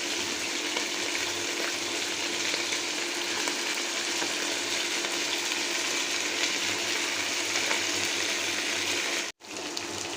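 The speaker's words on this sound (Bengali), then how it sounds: "মাংসগুলো উল্টিয়ে পাল্টিয়ে 4-5 মিনিট ভেজে নিব।" Chicken pieces frying in oil in a home kitchen pan, a loud continuous sizzle running unbroken for about nine seconds before a brief cut, with no talking over it.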